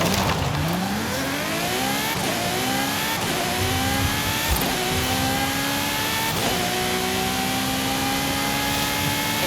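A Volkswagen Golf GTI in Forza Horizon 5 revs hard and loud, its engine note climbing through repeated gear shifts in a steady, close run with no talking.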